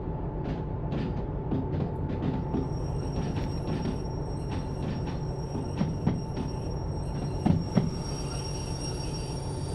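Train rolling along the rails in the simulator game Derail Valley, a steady low rumble of wheels with faint clicks and a couple of brief squeals near the end, continuous and fairly close.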